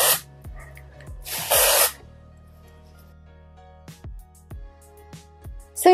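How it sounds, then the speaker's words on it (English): Dry shampoo sprayed onto hair from an aerosol can during a makeup routine, two loud hissing bursts close up, then a few faint taps and handling clicks. "And now for my hair, I need dry shampoo,"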